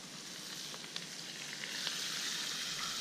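About a tablespoon of butter sizzles in a cast iron pan over a log fire pit, a quiet steady fizzing hiss with a few small pops, heard up close and alone.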